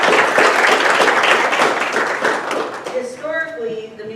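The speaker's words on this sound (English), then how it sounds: "So let's all give Ruby a round of applause." Applause from the audience at a town council meeting, dense clapping for the first few seconds that thins out as a voice begins speaking toward the end.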